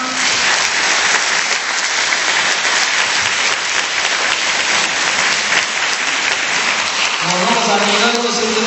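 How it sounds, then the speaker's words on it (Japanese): An outdoor audience at a taiko drum event gives loud, sustained applause, dense continuous clapping filling the whole stretch, with a voice coming in near the end. "また皆さん盛大な拍手で、のぼさん"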